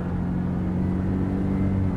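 A 2020 Ford F-150 STX 4x4 with an EcoBoost engine, accelerating in sport mode, makes a loud, steady low engine rumble with a rising hum, close up and without talking.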